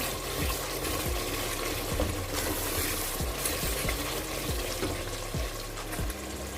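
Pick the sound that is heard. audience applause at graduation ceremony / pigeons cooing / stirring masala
stirring masala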